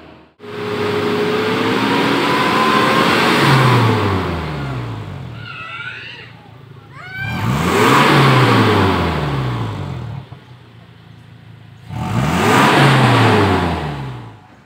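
A Toyota Fortuner engine, after a Blackcore Ultimate treatment, revs loudly three times up close, each rise settling back to a quieter idle between bursts.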